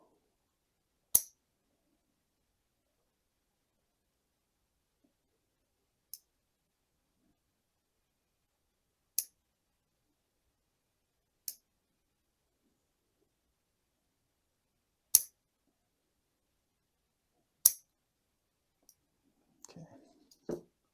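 Pruning shears snipping a Portulacaria afra lilliput bonsai give sharp, isolated clicks spaced a few seconds apart, about six crisp snips in all, ending with some faint rustling of handling.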